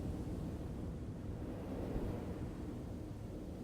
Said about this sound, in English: so it's fucking windy